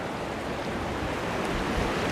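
Strong wind blowing by the water at a bream fishing spot, a steady roaring rush with microphone buffeting and waves underneath, loud and continuous.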